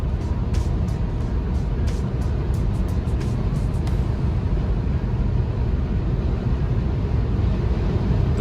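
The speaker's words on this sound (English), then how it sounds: "The wind noise gets very loud" Steady, loud wind roar fills a 2021 Tesla Model 3 Long Range cabin at high speed on the German Autobahn, a constant broadband rush with a few faint ticks early on and no talking.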